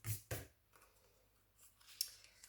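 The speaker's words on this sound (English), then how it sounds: "Bring some sharper scissors in there. So trim that top one down" Sharp scissors make two quick crisp snips through paper for card making, then a few softer cuts follow, close up and fairly quiet.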